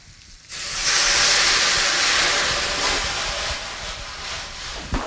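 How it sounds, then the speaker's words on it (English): Tequila is poured into a hot pan of mushrooms and sets off a sudden loud hiss of steam and sizzle. The hiss holds strong for several seconds, then slowly eases off. "So now it's time to add the tequila."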